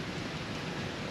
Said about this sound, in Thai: ในบ้านนี้ฝนตกเลยพี่น้องนี่